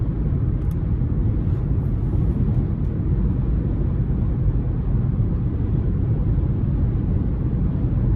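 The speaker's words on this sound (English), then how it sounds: "Now I can hear the wind noise just a tad, but nothing crazy, nothing unexpected" Steady wind and road noise inside a 2024 Chevrolet Trax 1RS with a 1.2-litre turbo three-cylinder while driving, a constant broad low rumble and hiss at even loudness throughout, with no talking.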